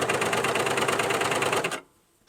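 A cover stitch machine sews the neckline of a top with a fast, steady mechanical hum close by, then cuts off abruptly into near silence.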